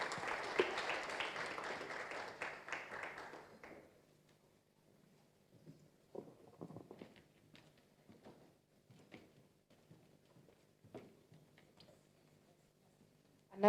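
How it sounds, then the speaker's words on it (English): Audience applause at a digital transformation forum, a dense burst of clapping that fades after about four seconds, followed by scattered faint taps and quiet room noise. "a round of applause to everyone else for also sitting through this entire session"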